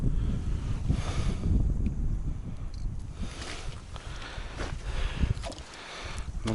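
Strong wind buffets the open ice during late-ice fishing in the Komi region, a steady roar of gusts hitting the microphone with no talk.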